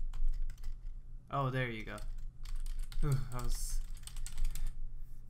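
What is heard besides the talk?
typing on a computer keyboard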